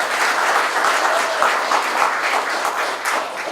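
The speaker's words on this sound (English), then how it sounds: "applause again, Susan Bates." Audience applause during sponsor introductions at an event: a dense, steady wash of many hands clapping, loud and close, holding evenly throughout with no talking over it.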